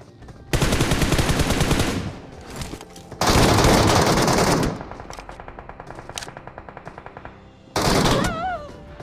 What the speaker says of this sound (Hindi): मैं शॉर्ट गन का दो दो गोली कनेक्ट किया पर बंदे ने एम के से मेरे को फिनिश कर दिया